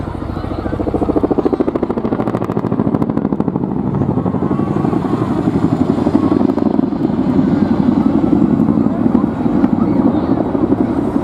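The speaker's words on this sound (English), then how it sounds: "it's my absolute pleasure to introduce the Royal Air Force 2023 Chinook display team" An RAF Chinook helicopter at a 2023 air display: a loud, steady rotor thump and engine roar that fills the whole stretch, with crowd or commentary noise mixed in beneath.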